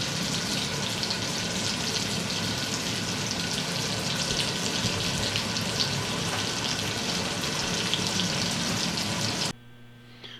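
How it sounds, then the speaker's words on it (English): Sausage browning in a cast iron skillet gives a steady, dense sizzle and crackle that holds evenly for about nine seconds, then cuts off abruptly, leaving a quiet low hum. "now we're just browning our sausage"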